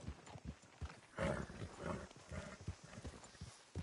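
Horse hooves clip-clop at a steady trot in the video game Red Dead Redemption 2, a close, rhythmic run of thuds with a louder, busier stretch partway through and no voices.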